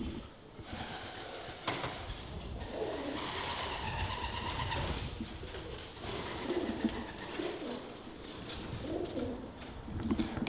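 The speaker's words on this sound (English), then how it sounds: "I'm frightening these pigeons a lot and I don't really want to." Pigeons cooing and fluttering inside an abandoned factory or warehouse, several birds calling at once in a steady, roomy murmur with occasional wing flaps, no one talking.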